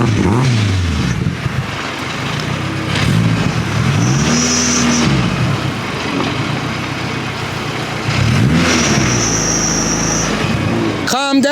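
A 500HP K-Series hatchback engine revs repeatedly in loud, rising and falling bursts, with idle between pulls and people talking over it.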